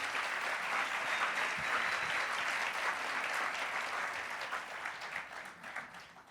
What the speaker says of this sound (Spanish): Démosle un aplauso más duro a nuestro grupo de teatro